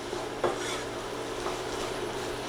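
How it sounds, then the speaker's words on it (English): Ground turkey searing in a one-pan pasta dinner gives a steady, dense sizzle close up, with a couple of faint scrapes of a utensil against the pan. "So right now we're just searing this ground turkey"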